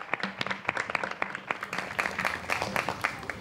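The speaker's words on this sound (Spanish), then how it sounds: "Un fuerte aplauso para ella" Audience applause at a gala final: dense, lively clapping from a crowd, steady throughout with sharp individual claps standing out.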